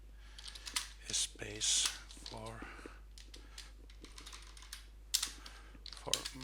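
Soft clicks and taps on a computer keyboard come in short bursts between stretches of someone speaking, fairly quiet and close.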